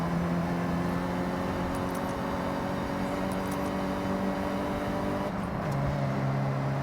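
Golf rally car driving off-road trails in the Horizon 6 racing game, a steady engine drone with sustained tonal hum and gravel-like noise beneath, pitch shifting near the end.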